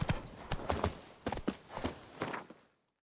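Roach, the horse in The Witcher video game, galloping: a quick, rhythmic run of hoof clip-clops for a few seconds, close and fairly loud, cutting off abruptly.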